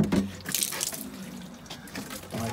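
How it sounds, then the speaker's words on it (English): Tap water runs steadily into a watering can in a garden, a continuous splashing rush with no talk. "I fill up a watering can"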